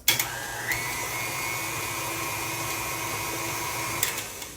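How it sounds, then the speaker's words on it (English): A stand mixer whirs steadily, loud and close, as it beats brown sugar toffee pound cake batter, with a high motor whine and a few brief knocks at the start and end. "You can't maneuver your mixer around like you can with a hand mixer."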